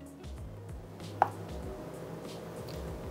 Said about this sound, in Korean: 반으로 두부를 나누겠습니다